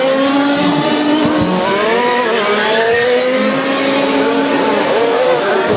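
Petrol-powered 1/5 scale RC Formula 1 cars race at a French championship final, a loud, steady, high-pitched engine whine with sweeping pitch changes as cars accelerate and pass close by.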